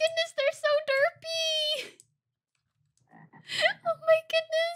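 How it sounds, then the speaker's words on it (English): Derpy-looking frogs in the Minecraft Vault Hunters modpack give a couple of short croaks amid excited child-like chatter, with a pause between bursts. "What are these frogs?"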